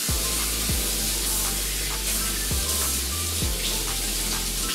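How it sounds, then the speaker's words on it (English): Running tap water pours steadily over vegetables being rinsed for a rabbit and hamster salad, a loud close continuous splashing hiss with slight shifts as the produce moves under the stream, no voices. "So first off, we have to rinse all the veg."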